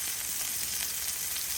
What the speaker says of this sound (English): And it's sizzling up nice.